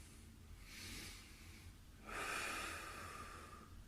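Slow, deep breaths during a post-workout back stretch, one soft inhale followed by a longer, stronger exhale, close and quiet with no speech.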